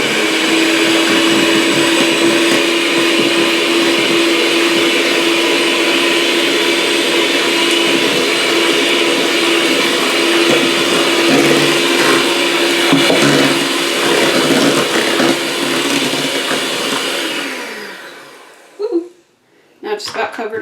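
Electric mixer whirring steadily while beating a very wet cake batter as dry ingredients are added, a loud continuous motor drone for most of the span, then cutting out near the end followed by brief clatters.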